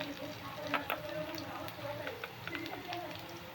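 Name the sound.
onions frying in a pan for street-style pav bhaji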